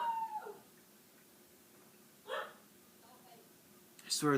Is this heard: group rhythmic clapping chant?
no